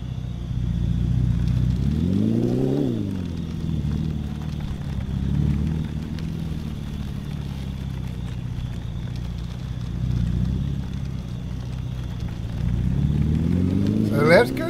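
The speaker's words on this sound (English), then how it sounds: "Oh, okay, now we got an engine." A vehicle engine in the video game GAIA runs steadily for the whole stretch, with a low drone that rises in pitch twice as it revs, first early on and again at the very end.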